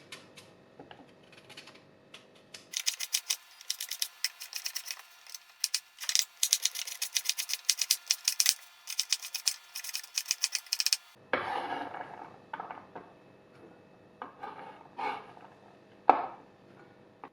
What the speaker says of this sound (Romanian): Țelina o tocăm în cubulețe mici.